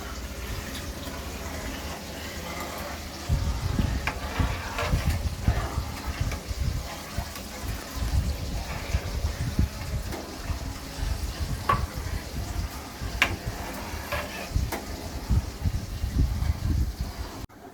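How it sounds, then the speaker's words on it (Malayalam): A steady stream of first-press coconut milk pours and splashes into a pot of lentil payasam, a continuous wet gushing that runs on with little change. "ഫസ്റ്റ് പാലാണ് ഈ ഒഴിച്ചുകൊണ്ടിരിക്കുന്നത് കേട്ടോ"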